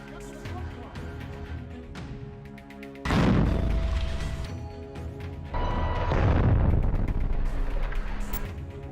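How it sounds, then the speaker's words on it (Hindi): A rocket launcher strike explodes against an IDF Merkava tank in Rafah, heard as heavy booming blasts with deep rumbling that swell sharply partway through, over a noisy low background in a war-footage setting. "जिससे जोरदार धमाका होता है।"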